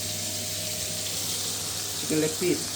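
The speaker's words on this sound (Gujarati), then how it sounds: "તો ચાલો, આપણું ચિકન તળાવવા મૂકી દીધું છે." A steady, soft hiss of flour-coated chicken legs and wings frying in oil runs throughout, with a couple of faint clinks near the end.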